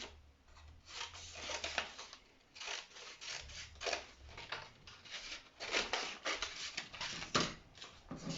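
Scissors snipping through folded fabric while cutting out a women's shirt pattern, a quiet, steady run of crisp cuts and rustling cloth, close and alone.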